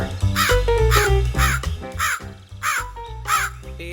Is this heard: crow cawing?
yes